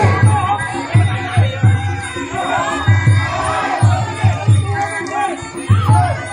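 Spectators at a Thai boxing charity match at a temple roar and chant in rhythmic bursts, loud collective shouts repeating with each exchange in the third round.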